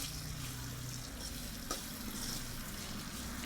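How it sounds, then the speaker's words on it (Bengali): Okra and onions frying and being stirred in a pan for an okra do pyaza, giving a faint, steady sizzle with soft scraping throughout. "ভালো করে নেড়ে নিব।"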